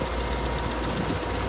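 Engine of a mowing machine running steadily at close range, a dense low rumble with a constant mechanical hum and no voices over it.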